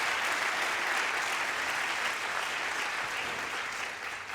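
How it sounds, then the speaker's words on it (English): A graduation-ceremony audience of an INSEAD MBA class applauds and cheers loudly, a dense sustained wash of clapping that eases slightly toward the end. "Can the most resilient class of INSEAD give me a cheer?"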